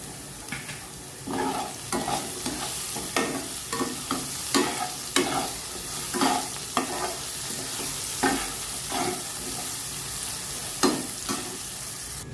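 Chunks of potato seasoned with salt and turmeric fry in oil in a wok. A soft continuous sizzle is broken by regular scraping strokes of a spatula stirring. No one speaks.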